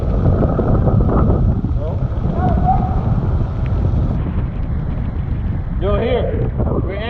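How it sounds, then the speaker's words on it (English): Strong wind buffets a boat riding at anchor in a cold, gray, rainy storm, a loud steady roar of gusts and microphone buffeting throughout, with people shouting and talking over it. "It's cold, it's windy, it's gray,"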